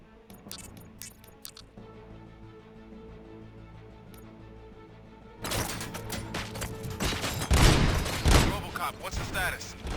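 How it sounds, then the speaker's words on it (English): Quiet ambient stretch in RoboCop: Rogue City, then a sudden burst of dense, rapid gunfire with booming impacts that swells louder toward the end. "Gunshots? What's going on?"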